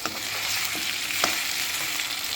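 Chicken curry frying in a pan with a steady, even sizzle and a couple of faint stirring clicks, no voices.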